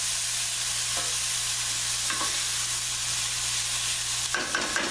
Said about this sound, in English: Just saute it and that's it.